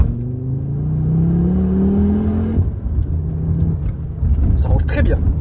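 A car drives along with a steady engine hum and rising tones as it accelerates, then shifts to a lower rumble with a change of gear, while people talk over it inside the cabin.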